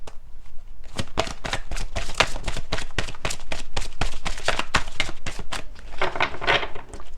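Tarot cards being shuffled close by, a loud run of rapid riffling flicks and slaps with short pauses and a busier burst near the end.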